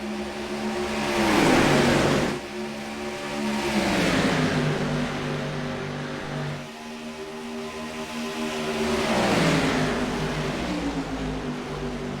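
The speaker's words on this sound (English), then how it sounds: "And you can hear those motors revving." Cadillac CTS-V race cars at Charlotte Motor Speedway roar loudly in repeated revving swells, engines climbing and falling in pitch as they pass close, with no talk over them.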